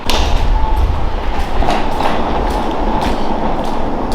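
A monorail train passing near an airport's North Terminal, heard as a steady, loud rolling rumble with faint rhythmic clatter throughout, close by and without talk.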